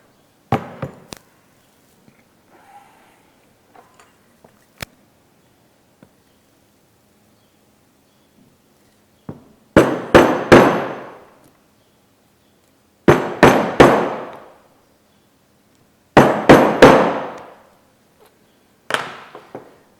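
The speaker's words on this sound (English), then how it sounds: "And now you're going to punch your holes." A hammer drives a punch through leather to make rivet holes. After a few faint early taps come four loud, close bursts of rapid sharp strikes, each burst three or four blows, separated by short pauses.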